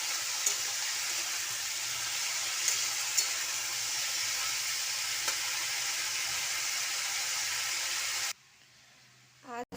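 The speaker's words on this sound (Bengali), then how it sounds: "বেগুনি করে ফেললাম আর আলু ভাজা করছি" Potatoes frying in hot oil give a steady, busy sizzle that runs for about eight seconds, then cuts to near quiet with a brief faint sound at the end.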